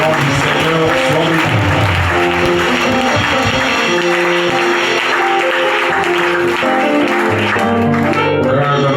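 A church congregation claps steadily to acclaim the Lord, loud sustained applause that fills the room with a dense patter, mixed with cheering voices and music underneath throughout.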